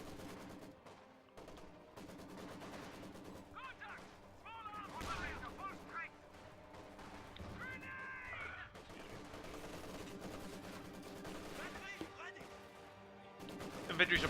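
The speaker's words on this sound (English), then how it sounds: "Infantry support gun lobbing some shots there at the Maxim machine gun" In Company of Heroes 2, an infantry support gun lobs shells while a Maxim machine gun rattles, with scattered gunfire bursts and booms heard under continuous commentary.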